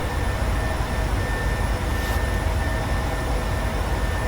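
Steady, loud jet-engine roar from a PMDG 737-700 in Microsoft Flight Simulator 2020 as the airliner turns after takeoff, a continuous broadband rumble with a faint whine and no voices.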